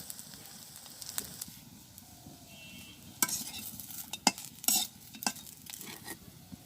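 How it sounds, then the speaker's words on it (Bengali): Fritters frying in oil give a soft, steady sizzle under sharp clicks and scrapes of stirring, which grow busier toward the end. No one speaks. "আমার বড়া এগুলো হয়ে গেছে ভাজা"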